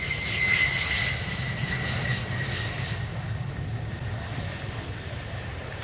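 A Boeing F-15QA Ababil jet fighter rolls out after landing at an airshow, its engines giving a steady, loud, distant roar with a whining high tone that slowly fades.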